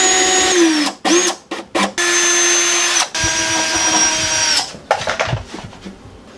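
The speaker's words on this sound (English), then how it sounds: "I'm going to drill a hole so my speaker wire can actually come out" Power drill boring a hole through a subwoofer box during a car stereo install in a 2017 Camaro ZL1, a loud steady whine broken by several short stops and restarts, with no talk over it.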